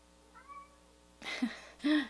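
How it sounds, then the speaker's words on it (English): After a faint thin whine, a cat meows twice at a door, trying to get in, fairly close and loud, each cry a drawn-out plaintive call with a short pause between. "my insane cat is actually meowing at the door trying to get in as we speak"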